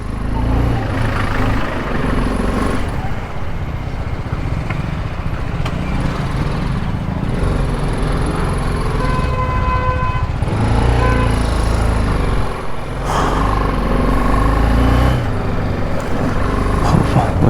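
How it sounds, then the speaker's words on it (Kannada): A motorbike rides through dense traffic on a fog-covered ghat road in Kerala. A continuous loud mix of car, truck and bus engines rises and falls as vehicles pass close by, with a few horn blasts scattered through it. "ಏನು ಗುರು ಇಲ್ಲೂ ಇಷ್ಟೊಂದು ಟ್ರಾಫಿಕ್ ಇದೆ ಘಾಟಲ್ಲಿ"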